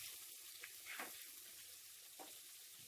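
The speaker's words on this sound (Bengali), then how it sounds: "বেগুনটা এবারে একটু হালকা লাল করে ভেজে নেব।" Eggplant fries in oil in a pan for a potato and hilsa curry, giving a steady, faint, close sizzle with a couple of brief stirring sounds.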